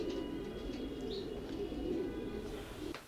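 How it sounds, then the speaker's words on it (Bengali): Racing pigeons coo softly and continuously in a loft, their low, murmuring calls faint and overlapping throughout. "আপনাদেরকে আমরা আমাদের রেসিং পিজনগুলো দেখালাম"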